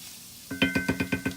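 Homemade taco seasoning spices stirred together in a bowl, six quick rhythmic scraping strokes after a brief quiet moment, close and fairly soft.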